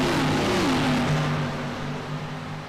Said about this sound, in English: Nicholas Maynard out front as they rip through the gears.